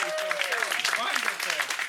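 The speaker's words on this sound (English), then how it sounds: "Please, another applause." An audience claps for a reader at a comedic reading event, a steady two-second patter of hands mixed with whoops and voices calling out over it.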